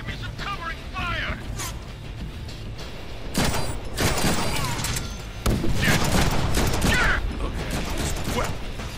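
Gunfire in the Deadpool video game: a dense, ongoing spread of shots and bursts at fairly steady loudness across the whole stretch, under and between a man's speech.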